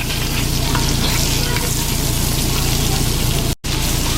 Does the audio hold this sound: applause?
no